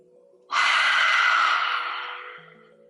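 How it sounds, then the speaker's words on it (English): A single long, breathy exhale through the mouth during a gentle yoga breathing exercise, loud and close, starting abruptly and tapering off slowly over about two seconds against quiet background hum. "Breathe out through the mouth"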